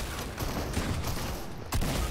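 Shotgun blasts from a pump shotgun in the Fortnite video game ring out amid a burst of gunfire, several sharp bangs at about 0.4, 1.0 and 1.75 seconds over a busy game soundscape.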